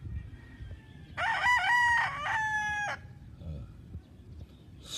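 A rooster on a farm in the Philippines crows once, loud and close, a long wavering call lasting nearly two seconds, with low farmyard rumble and faint clucks around it.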